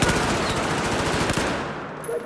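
Rapid automatic carbine gunfire in Battlefield 4, a loud continuous burst of closely spaced shots for about two seconds before cutting off.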